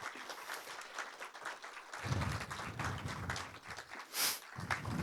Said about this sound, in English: One more round of applause for all of our speech contestants.